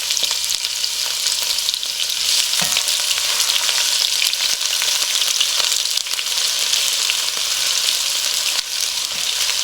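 Chopped onions frying in oil with bay leaves and four dried chilies, a loud, steady hiss of sizzling that runs throughout, broken by faint occasional stirring knocks, no voices.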